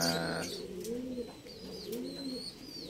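Pet African lovebirds give soft, repeated cooing calls with thin high chirps around them, moderately close and fairly quiet, with no speech.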